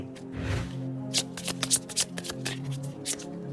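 Tarot cards are shuffled by hand close by, with a flurry of quick riffling and tapping bursts at a moderate level.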